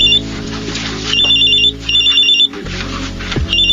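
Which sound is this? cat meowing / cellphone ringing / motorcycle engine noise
cellphone ringing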